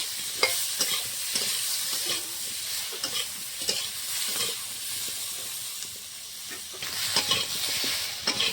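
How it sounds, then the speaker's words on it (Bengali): Steady sizzling of potato, okra and eggplant frying in a pan, with scraping stirs now and then, continuous and fairly close, no voices. "সব সবজি এখন এর সঙ্গে ভালো করে ভেজে নেব"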